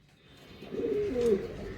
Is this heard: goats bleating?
no